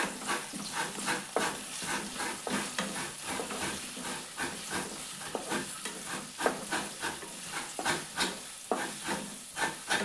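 Chopped ginger and garlic sautéed in a pan for chicken curry, giving a continuous close sizzle broken by frequent rhythmic stirring and scraping strokes throughout.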